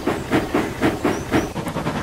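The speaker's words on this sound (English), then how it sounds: "Toby and Percy exchanged annoyed looks and steamed away to catch their first trains" A steam locomotive hissing in regular rhythmic chuffs, about six even bursts with a faint high whistle tone above, close and steady with no talking.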